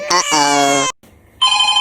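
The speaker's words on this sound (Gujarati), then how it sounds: "ક્યારની ફોનની ઘંટી વાગે છે" A telephone ringtone trills loudly and electronically in two close bursts separated by a short pause, set in a comic household scene.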